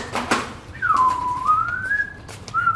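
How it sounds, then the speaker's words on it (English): A person whistles a sliding, wavering tune, dipping then rising, with short breaks and a brief final note; a few soft knocks sit underneath. "I'm talking to you and you're blowing whistle."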